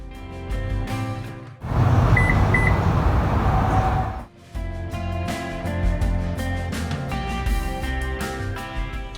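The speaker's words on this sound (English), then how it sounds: "your Lexus beeps back at you when locking and unlocking it" A Lexus gives a short lock confirmation chirp, two quick beeps within a burst of outdoor noise, between stretches of background music.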